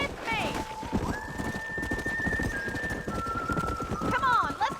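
A horse gallops in the Western video game Red Dead Redemption, hooves pounding in a steady fast rhythm up close, with a whinny near the start and another at the end, layered under game music and a voice.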